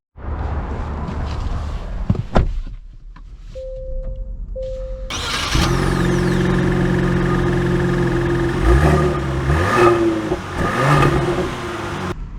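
A 2024 Genesis GV80 3.5T cranks and fires, settles briefly into idle, then pulls away with the engine rising and falling as it drives off, heard up close with no talking.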